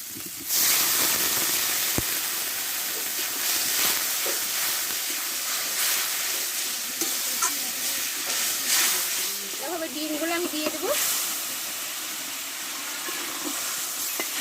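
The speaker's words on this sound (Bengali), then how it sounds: "মশলাটা ভালোভাবে কষে নিয়েছি এবার অল্প করে আমি জল দিয়ে দেবো" Water poured into a pan of well-fried, sizzling spiced masala for a spicy Bengali egg curry, giving a loud, steady hiss and sizzle that runs the whole time, with bubbling spurts near the end.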